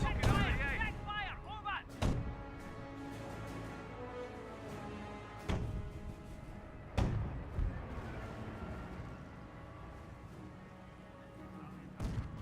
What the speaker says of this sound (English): We got some shots there under the 25 pounder.